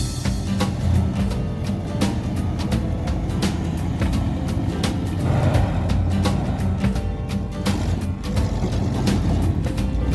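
A square body Chevrolet engine running steadily just after starting, a continuous close rumble with a rapid ticking and clatter over it and no breaks.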